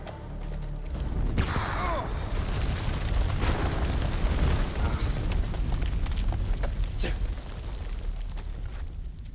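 A grenade goes off in the video game House of Ashes, a heavy boom with a sustained rumbling blast that rolls on for several seconds, loud and close, with a few sharp cracks scattered through the noise.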